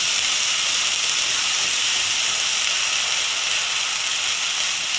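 Onion tomato masala frying in a pan for Chettinad egg curry, a steady loud hissing sizzle that holds evenly throughout, close and without pause.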